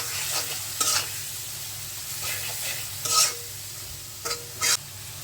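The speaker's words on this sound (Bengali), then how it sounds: "এখন আমি চিংড়ি মাছগুলো দিয়ে দিব" Prawns fry in a pan with spices and onion, a steady sizzle broken by several short bursts of stirring and scraping, close and clear with no talking.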